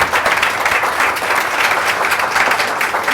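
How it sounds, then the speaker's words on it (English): A live audience at a brain health summit education panel gives the panelists a round of applause, steady dense clapping that fills the room, loud and continuous without pause or talk over it. "a round of applause for our panelists"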